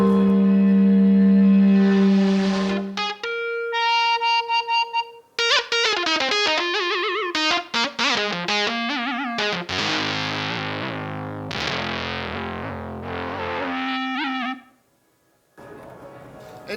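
Distorted NonLinear Labs C15 synthesizer with a room distortion effect plays sustained chords and choppy stabs with a gritty, saturated edge, cutting out abruptly near the end before a brief return.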